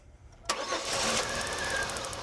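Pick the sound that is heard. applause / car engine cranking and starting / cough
car engine cranking and starting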